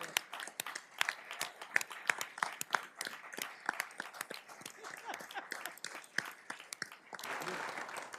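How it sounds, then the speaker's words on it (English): Scattered applause in a city council meeting for an honoree, moderately quiet with distinct individual claps and some murmuring voices mixed in. "Let's give him a round of applause."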